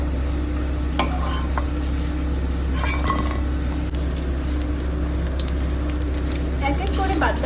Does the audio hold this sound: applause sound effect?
no